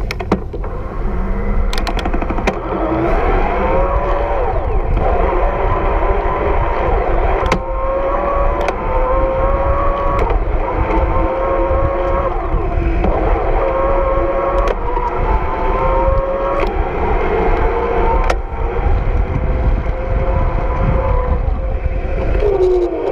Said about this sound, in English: The higher you go with the RPM, the pedaling, the louder it's going to be.